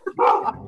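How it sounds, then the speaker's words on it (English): A dog barks once, close and fairly loud, a short full-bodied woof with a quick yip just before it, heard on its own with no talk. "Now my dog is barking"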